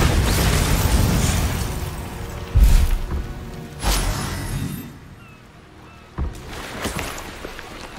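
Bombarda spell explosions from the video game Hogwarts Legacy, loud booming bursts with a whooshing rush, several heavy hits spaced across the stretch, and no talk.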